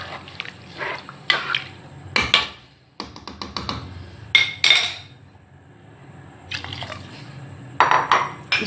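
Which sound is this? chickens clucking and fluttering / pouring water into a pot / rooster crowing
pouring water into a pot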